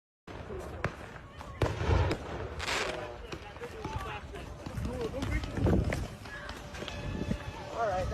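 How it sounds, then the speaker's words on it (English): Fireworks thrown by protesters outside a federal immigration building in Minnesota at night crack and pop in scattered bursts amid crowd noise, shouting and running footsteps, with people talking throughout. "Protesters at the federal building where immigration is at, they started throwing fireworks last night"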